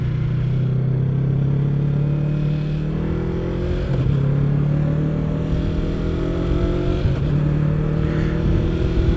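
A 2024 Yamaha R3 motorcycle rides and accelerates, its engine droning loud and continuous with rising pitch through the gears, wind rumbling underneath.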